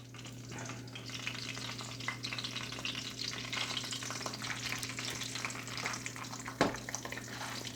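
Chicken thighs frying in hot oil at medium-high heat, a dense, steady sizzle close by with scattered crackles and one brief louder knock.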